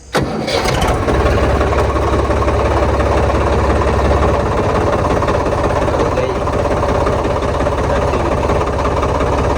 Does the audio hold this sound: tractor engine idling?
yes